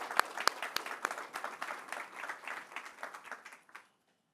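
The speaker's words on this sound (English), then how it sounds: "I want you to give yourself a round of applause of knowing how powerful you are." Applause from an audience at a talk: a burst of clapping with a few sharp individual claps at the start, spreading into a steady round that thins out and stops before the end.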